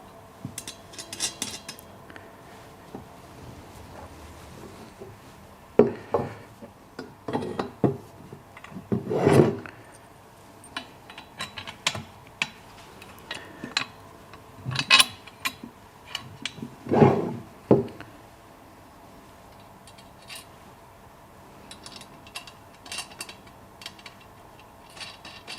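Bolts being hand-tightened during assembly of a two-wheeled wheelbarrow produce scattered faint scrapes, rasps and ratchety clicks in a quiet room, with brief sharper bursts between pauses.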